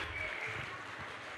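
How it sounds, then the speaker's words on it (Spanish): Brief, steady crowd applause for a speaker at a conference, a dense wash of clapping heard at moderate distance with no individual claps standing out. "otro aplauso para el padre Jaime"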